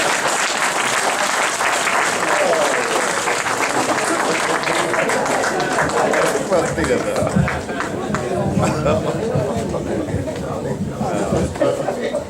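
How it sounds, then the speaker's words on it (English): Loud, sustained applause from a large crowd at the 2018 Saviours' Day gathering, dense clapping with cheers and chatter mixed in, continuing steadily throughout. "give Harriet Tubman another round of applause"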